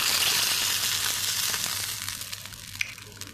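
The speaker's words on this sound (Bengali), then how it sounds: "এবার আমি দুধটা দিয়ে দেবো।" Milk poured into a pan of frying vegetables such as drumsticks, eggplant and pointed gourd, giving a strong hiss that gradually settles into softer bubbling sizzle, heard close with no talking.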